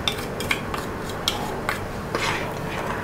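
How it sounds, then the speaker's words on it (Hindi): A spoon stirring a boiling coffee mixture in a metal pot, with a series of light clinks and scrapes against the pot at an irregular rhythm, close up and with no talking. "इसको अच्छे से स्टर करके"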